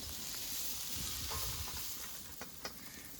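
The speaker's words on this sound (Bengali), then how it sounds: "বাঁধাকপিটা ভালো করে ভেজে নিয়েছি বাঁধাকপিটা ভাজা হয়ে গেছে" Cabbage sizzles softly in a pan with a steady hiss, broken by a couple of sharp clicks of a utensil stirring near the end.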